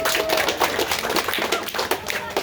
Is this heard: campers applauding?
yes